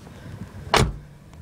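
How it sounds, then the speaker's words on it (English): A car's back door is shut with a single solid, close thud that fades quickly, surrounded by quiet. "let me shut this back door"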